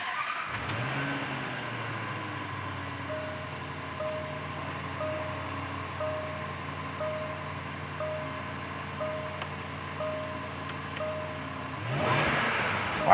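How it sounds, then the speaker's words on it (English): A supercharged 2010 Land Rover Range Rover engine cold-starts with a quick crank, then settles into a steady, even idle hum that continues throughout and swells slightly near the end. "Let's start it real quick while we're sitting here. I know a lot of you guys at home like to hear these things kind of a cold start."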